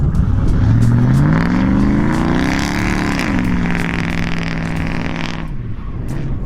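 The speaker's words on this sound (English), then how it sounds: "And then, of course, give Brett's truck a tug" Lifted pickup truck engine revving hard while being towed out during off-roading, rising pitch climbing then dropping and holding a steady loud roar for about five seconds before cutting off.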